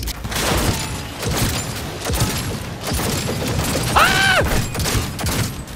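Gunfire in the Cyberpunk 2077 video game, rapid loud bursts under busy game noise with a short shout and a rising electronic whine near the end.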